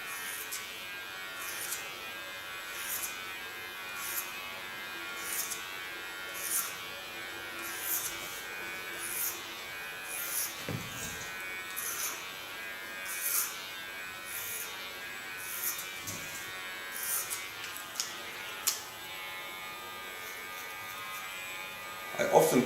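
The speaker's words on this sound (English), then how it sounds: "I often put the blade of the clipper to the back and to the front again to keep the blades ultra clean" An electric hair clipper buzzes steadily and close by while cutting a woman's hair for an undercut bob, with a regular pulsing rhythm as the blade sweeps through in repeated strokes.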